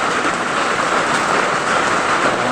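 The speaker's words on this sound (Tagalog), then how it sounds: "Lagi itong ulan mga kabady." Heavy tropical storm rain pours steadily on a rural farm trail, a dense, loud, unbroken hiss filling the whole stretch with no voices.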